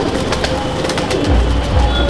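A Chapka Giribaz pigeon, an old breed, is held in the hand at a loft, giving soft close coos over a steady background hum, with a few low pulses toward the end.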